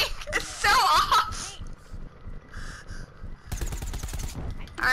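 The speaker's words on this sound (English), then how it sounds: "there is something wrong with my soldiers shooting" Rapid bursts of soldier gunfire in the Battle for Neighborville shooter game, crackling shots in short clusters separated by gaps, with a player's voice talking over the start.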